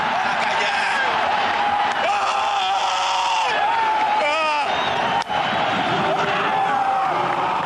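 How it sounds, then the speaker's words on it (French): The Lens bench erupts in joyful shouts after a 2-1 Coupe de France quarter-final win over Paris SG in 1994, loud overlapping yells and whoops over a roaring stadium crowd, with a commentator talking over it. "Depuis le banc de touche, les cris de joie"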